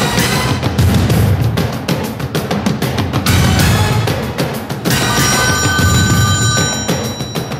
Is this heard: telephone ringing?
yes